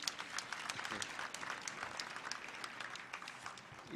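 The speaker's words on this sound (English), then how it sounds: "We can once again applaud Wanjiko." A graduation ceremony crowd applauds a graduate, a faint, distant-sounding spread of many hands clapping, with some uneven bursts and a hint of voices underneath.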